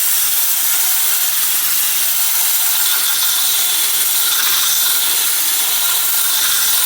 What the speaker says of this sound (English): I'm just going to use my drill with this kind of